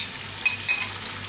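Three eggs dropped into a pan of sizzling mushrooms for scrambled eggs, a steady frying hiss broken by two quick metallic clinks, close by and with no speech.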